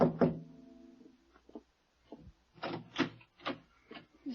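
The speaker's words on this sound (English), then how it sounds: "I tapped on the door" Knocking on a wooden apartment door, heard as a series of sharp raps in small irregular groups with quiet gaps between them, close and clear in a radio drama scene.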